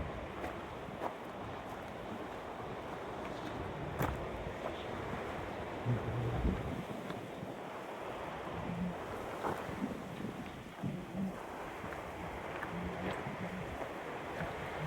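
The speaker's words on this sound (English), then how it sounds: "Maybe it's because the wind is blocking my ears, making me hard of hearing." Wind gusting on the coast at Hakodate, Japan, a continuous rough rushing roar buffeting close to the microphone, with irregular thumps and swells and faint surf-like wash beneath.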